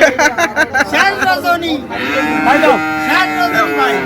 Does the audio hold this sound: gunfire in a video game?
no